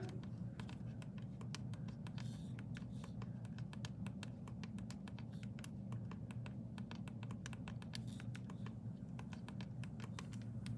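Rapid, steady clicking of graphing calculator keys pressed one after another while entering data, with a constant low hum underneath and no voices.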